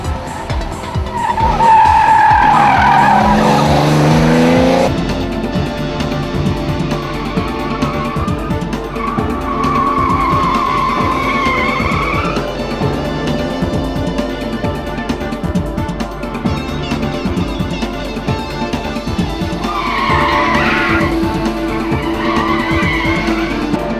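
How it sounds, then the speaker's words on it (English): Porsche 911 rally cars skid around a test stage, tyres squealing in long wavering bursts over engine roar, with a loud slide up front, then further squeals and revving passes; no voices. "Charles Colton and Paul Tomlinson set fastest times in their Porsche 911s on both tests."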